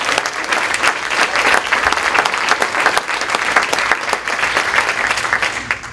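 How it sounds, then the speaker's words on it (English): Sustained loud applause from a large audience at an evening awards ceremony honoring award recipients, dense steady clapping filling the whole stretch without pause. "Let's have another round of applause."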